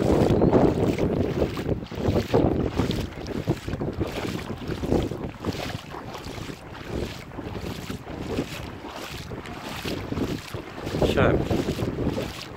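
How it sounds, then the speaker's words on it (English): Strong west wind gusts roar across the microphone beside a wild, rough sea in a flooded coastal town, with surf and broadband wind noise filling the background continuously and no talking. "the sea is wild because of the massive west wind"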